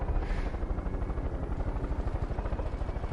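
Aircraft engine noise in the video game Far Cry 5, a steady pulsing rotor-like drone that stays loud and close throughout with no talk over it.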